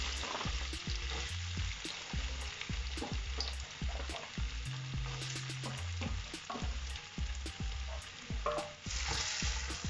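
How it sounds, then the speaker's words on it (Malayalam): Small pieces of one large chopped potato fry in hot oil with a dense, continuous sizzle and frequent sharp clacks of stirring all the way through, with no voices. "അപ്പോൾ എണ്ണ ചൂടായിട്ട് വരുമ്പോൾ ഇതിനകത്തോട്ട് ചെറിയ കഷ്ണങ്ങളായിട്ട് അരിഞ്ഞിട്ട് ഒരു വലിയ പൊട്ടറ്റോ ഞാൻ ഇട്ട് കൊടുക്കുവാണ്"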